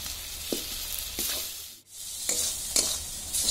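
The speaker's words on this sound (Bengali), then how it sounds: "দেখুন মশলাগুলো আমার খুব ভালোভাবে কষানো হয়ে গেছে।" Ground spices, including cumin, coriander, chili and turmeric powder with salt, sauté in a pan with a steady close sizzle broken by several scraping stirs and a brief lull midway, with nobody speaking.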